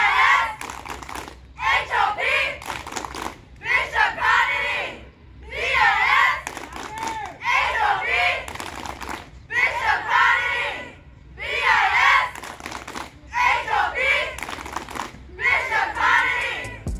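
School cheer team chanting in unison with young voices, loud rhythmic bursts of shouted cheers repeating about every two seconds with brief pauses between, claps mixed in.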